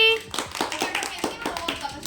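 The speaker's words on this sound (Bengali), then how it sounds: "পরের প্রশ্ন হাততালি দে" A group of children claps hands in quick bursts over a couple of seconds, with voices mixed in around the claps.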